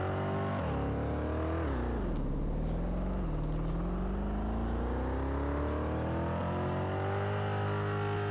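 Most expensive car in the game Vehicle Tycoon accelerates hard, its synthetic engine note climbing, dipping at gear shifts, then rising steadily through a long pull, loud and close with no talking.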